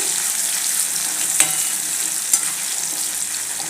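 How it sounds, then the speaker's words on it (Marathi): Tomatoes sauté with onions in a pan for a potato curry, a bright, steady hiss of sizzling oil with a couple of faint utensil taps, close and fairly loud, no voices. "टोमॅटोही या कांद्याबरोबर थोडा आपण परतून देऊया"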